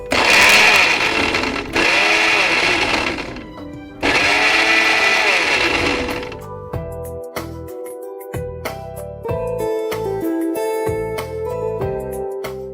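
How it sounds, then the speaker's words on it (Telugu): A kitchen mixer grinder purees raw mango pieces with a little water, whirring loudly in two long bursts before the motor cuts off and the jar rattles and clinks. "ఇప్పుడు దీన్ని మిక్సీ పట్టేసుకో."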